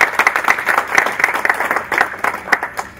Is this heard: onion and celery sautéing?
no